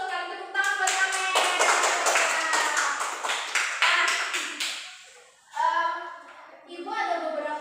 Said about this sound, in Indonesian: Betul sekali, tepuk tangan buat Amel.